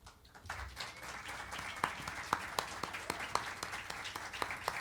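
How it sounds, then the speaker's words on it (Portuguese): Audience applause for a slam poet at a Brazilian poetry stage show, a moderate field of clapping with sharper individual claps standing out, fairly steady over several seconds. "eu queria muito uma salva de palmas para ele."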